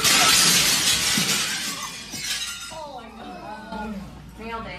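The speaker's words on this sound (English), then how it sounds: "Other than that he ran through glass" Glass shatters loudly as a hockey mascot runs through a pane, a bright crash with clinking debris, then a voice talks over the fading tail.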